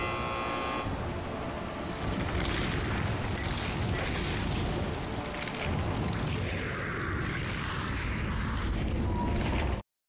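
A flash grenade in Resident Evil 4 VR goes off in a loud, continuous wash of booming blasts and hissing noise that lasts about ten seconds, then cuts off abruptly. No one talks.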